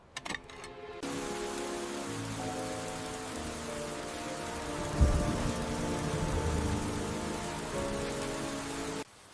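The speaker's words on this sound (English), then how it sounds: "Sudden heavy downpour ruins drying radish." A sudden heavy downpour over farmland where radish is set out to dry, a steady loud hiss of rain drumming on surfaces with a low rumble in the middle, starting abruptly after a short quiet lead-in.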